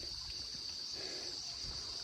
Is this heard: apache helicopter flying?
no